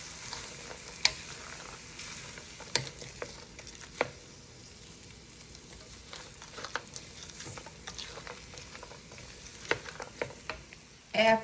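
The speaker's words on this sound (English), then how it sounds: "Bring them to a simmer." Vegetables for chicken pot pie cooking in a pot on medium heat make a quiet, continuous bubbling sizzle, broken by scattered sharp clicks and taps of stirring.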